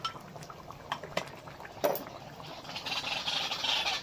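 Chicken curry bubbling in a clay pot, soft boiling gurgles mixed with a few clinks of a utensil against the pot, close and fairly quiet.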